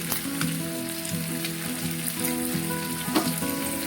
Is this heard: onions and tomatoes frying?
yes